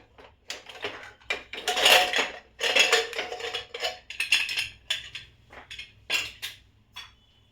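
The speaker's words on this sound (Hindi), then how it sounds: "कुकर अच्छी तरह ठंडा हो चुका है, इसे मैं चेक करती हूँ।" Metallic clattering and clinking of a cooled pressure cooker lid being opened after cooking green mung dal, with bursts of hiss-like noise and scraping, close by, with no talking.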